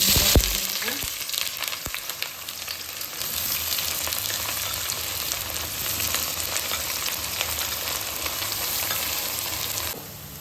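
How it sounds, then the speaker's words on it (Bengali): Onions fry in refined oil for mutton biryani, a dense, continuous close-up sizzle with occasional stirring clicks, cutting off abruptly near the end. "এই যে পেঁয়াজটা লাল লাল করে ভাজা হয়ে গেছে,"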